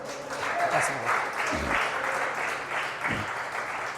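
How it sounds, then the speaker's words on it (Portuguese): A church congregation applauds together, a steady wash of clapping at moderate distance, with faint voices mixed in beneath. "uma salva de palmas para Jesus"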